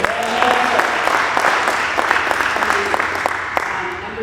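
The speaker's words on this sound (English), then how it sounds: "We should all be clapping right now." Clapping from the audience at a board of education meeting, a moderately loud, fairly dense round of claps that runs for a few seconds in a room with some background murmur.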